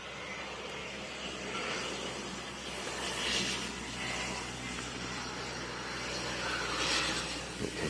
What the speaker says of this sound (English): You can hear the plane has landed.